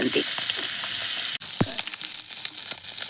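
Red borei fish fries in a hot pan with oil, a steady close crackling sizzle with small pops throughout and no talking.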